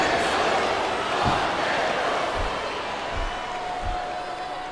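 Arena crowd noise from WWE SmackDown vs RAW 2007 wrestling video game, a steady loud roar of fans with swelling cheers and a few low thuds from in-ring impacts, continuous throughout.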